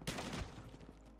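A short, faint burst of gunfire in the Call of Duty Mobile video game, with a couple of quick sharp shots near the start.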